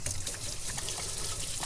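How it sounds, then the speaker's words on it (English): Tap water runs steadily while hands are washed in a home kitchen, a continuous close splashing trickle with no voices. "Let me wash my hands quickly."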